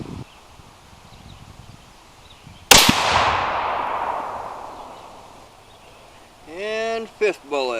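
A single loud 22 Creedmoor rifle shot firing an 80 grain ELDM bullet cracks sharply outdoors and its rumbling echo fades over several seconds, followed by someone talking.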